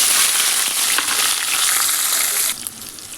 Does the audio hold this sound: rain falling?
no